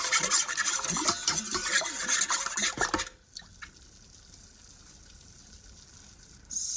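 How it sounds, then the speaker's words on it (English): Yeast and warm water mixed in a bowl with a Danish dough whisk for bread dough, making a close, busy wet stirring and scraping for about three seconds before it stops, leaving a quiet room and faint clicks. "I'm taking my Danish dough whisk and I'm just going to mix these together before I add the flour"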